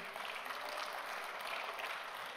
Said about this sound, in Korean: 예수님께 박수 드리세요.